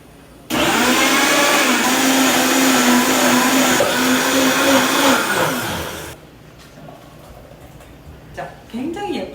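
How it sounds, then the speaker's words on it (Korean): A kitchen blender grinds ingredients for a cockle bibimbap sauce, starting abruptly as a loud continuous whir that runs about five seconds, then cuts off to quiet kitchen sounds. "믹서에다 갈도록 하겠습니다."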